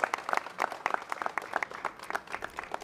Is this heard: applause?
yes